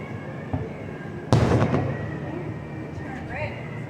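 A July 4th Independence Day fireworks show at Pompano Beach, Florida, in 2023: one sudden loud, close burst booms and crackles, then fades into a lingering rumble beneath faint crowd murmur.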